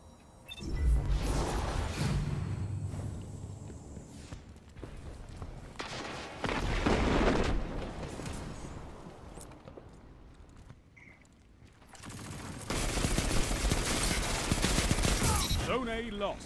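Bursts of heavy gunfire and booms from a PvP shooter match as players shoot down a ship, rising and falling in dense volleys with quieter gaps between loud sustained stretches.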